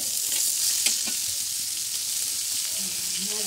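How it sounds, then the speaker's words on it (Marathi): Fish fries on an iron griddle with a dense, even sizzle that runs unbroken throughout, close and moderately loud, with a faint tap or two. "काय काय लोखंड तव्यावरतीच का तळतात मच्छी."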